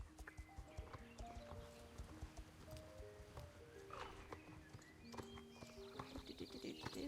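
Horse hooves clip-clop at a steady riding pace in the Star Stable video game, with occasional whinnies over background music and a person talking.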